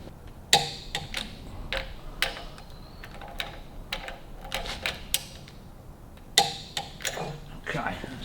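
A torque wrench clicks repeatedly while camshaft gear bolts are tightened on a 1930 Hudson straight-eight engine, sharp close ticks in irregular bursts over a quiet shop background.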